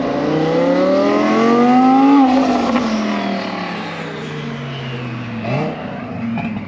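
An Audi R8 sports car revs hard as it pulls away, its exhaust loud and rising then falling, with a few pops and bangs near the end.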